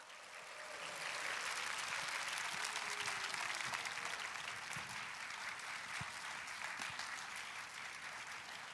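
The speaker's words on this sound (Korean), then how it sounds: "큰 박수로 맞이해 주시기 바랍니다" Sustained applause from a church congregation at a Sunday evening worship service in Korea, welcoming a pastor to the stage; dense, steady clapping lasting throughout with no talk over it.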